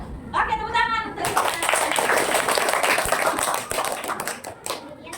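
A classroom of students applauding a presentation, scattered clapping building into a dense round after a brief spoken line from a child, then tapering into uneven claps.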